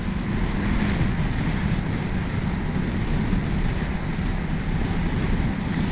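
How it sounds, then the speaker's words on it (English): Strong wind roars steadily and loudly across the microphone with a dense, unbroken buffeting, outdoors beside a Ducati Multistrada motorcycle on a windy day. "it's going to be very windy."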